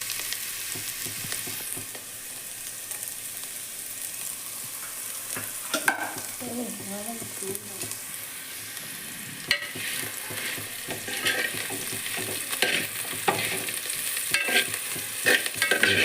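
Tomatoes and pirandai (adamant creeper) sauté in a hot pan for a thick chutney, giving a steady sizzling hiss broken by occasional stirring scrapes and light clatters, with no voices.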